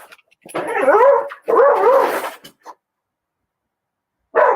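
Dogs bark and yip in two sustained, pitch-sliding bursts, fairly close, followed by a short yelp and another bark after a pause of silence.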